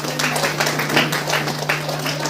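An audience applauds at a women's DXN meeting program in Khalilabad, a dense, steady wash of clapping with a constant hum underneath.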